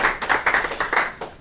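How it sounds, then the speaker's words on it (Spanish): A small audience at a talk on water-network leak detection gives a brief round of applause, a short burst of close, uneven hand claps that quickly tapers off. "Pues un aplauso para él"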